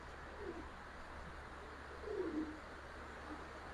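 Domestic pigeons, a fancy breed pair such as Giribaz, coo softly at a loft, with two low murmuring coos around the middle and a fainter one near the end over steady background hum.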